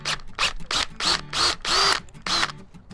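A power drill cuts into aluminum on a Chevy C10 truck part, running in about seven close, loud bursts with brief pauses between them, and no talking.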